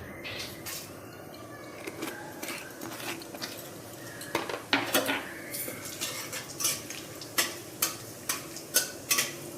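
Whole spices, dried red chilli, bay leaf and cumin seeds, are stirred in hot oil in a pan: light metallic clinks and scrapes of a utensil against the pan over a faint sizzle, growing more regular toward the end.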